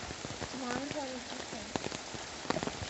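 Steady rain pours outside a home during a rainstorm, with water being collected, a dense continuous patter with a few sharper drips and splashes, while faint voices murmur underneath.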